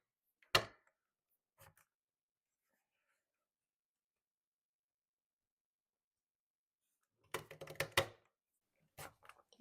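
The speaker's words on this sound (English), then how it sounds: "Now maybe I will border punch this one." A border punch presses through paper in a few sharp, close snapping clunks, one at the start, a faint one soon after, then a quick cluster of loud crunching punches near the end with quiet between.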